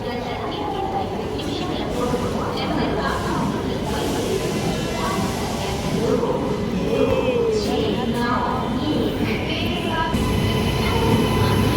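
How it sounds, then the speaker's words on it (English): The Janmabhoomi Superfast Express, train 12806, pulls into a station platform behind a WAP-7 electric locomotive, its wheels rumbling and squealing close by amid crowd noise, with a person talking over it. "ఇదిగోండి భయ మన ట్రైన్ అయితే వచ్చేసింది 12806 జన్మభూమి ఎక్స్ప్రెస్"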